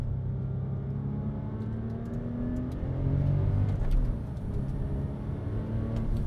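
A Porsche 996 Turbo engine hums and rises steadily while driving, a continuous mid-loud drone swelling briefly midway, heard from inside the car with faint clicks over it.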